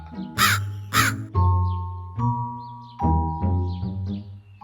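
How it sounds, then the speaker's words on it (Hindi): A crow caws loudly several times in a row, harsh and close, each call separated by short pauses. "कौवा बेसुरे अंदाज में काव काव गाने लगा।"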